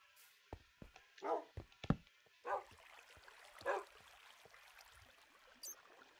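A puppy in the video game Minecraft Hexxit gives several short, sharp yelps and whimpers in scattered bursts, fairly close, over a faint background hum.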